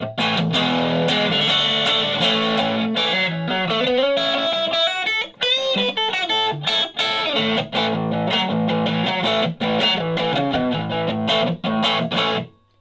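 Electric guitar played through a micro amp with gain raised for more distortion, a loud, overdriven run of chords and riffs, close and continuous with brief pauses, no talk.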